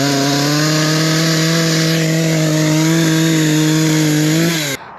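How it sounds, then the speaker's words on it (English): Husqvarna Rancher 460 chainsaw with a 20-inch bar running at steady high revs, loud and close, with a strong buzzing drone throughout before it cuts off abruptly near the end; no talking. "We got the Husqvarna Rancher 460. Has a 20-inch bar on there."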